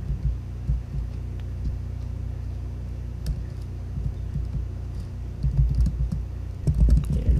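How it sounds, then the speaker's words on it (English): Steady typing on a computer keyboard, rapid soft key clicks close up over a low room hum, with a few louder taps toward the end and no talking. "I'm just gonna type in"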